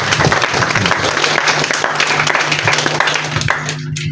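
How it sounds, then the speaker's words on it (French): An audience at a school philosophy event claps loudly for the mayor, dense sustained applause with a low hum beneath that thins out and fades near the end. "il faut applaudir au maire pour l'effort qu'il a"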